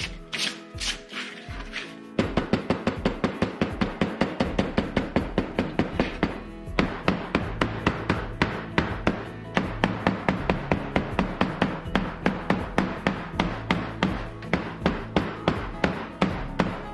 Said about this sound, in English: You can see I'm hammering the edge maybe 1/8 of an inch